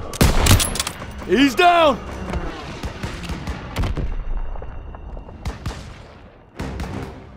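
Machine gun fire and scattered shots in a Call of Duty WW2 battle, loud and close at first, then rattling on in uneven bursts beneath shouted squad callouts.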